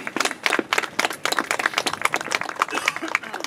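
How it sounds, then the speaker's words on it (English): Scattered audience clapping at a New York City press conference on the HomeStat homeless outreach program, a brief burst of uneven claps at moderate distance with some voices mixed in. "You can clap for that, that's good."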